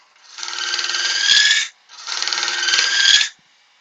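A woodturning tool scrapes wood away beside a bored hole on a lathe: two even, rasping strokes, each about one and a half seconds long, close and fairly loud, with a short pause between them.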